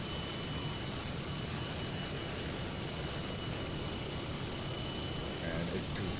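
Steady broadband engine drone of an aircraft flown in a flight simulator game, constant and moderately loud throughout with no change in pitch or level, while a person talks over it.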